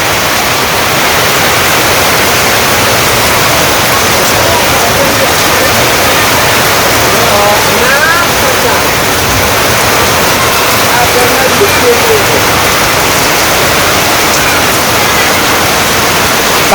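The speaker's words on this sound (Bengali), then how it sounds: "এই যে মোটামুটি মানে বৃষ্টি নেমে গেছে" Steady, heavy rain pours down in a loud, continuous wash of noise with no break.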